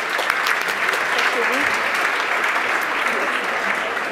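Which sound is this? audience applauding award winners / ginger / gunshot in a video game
audience applauding award winners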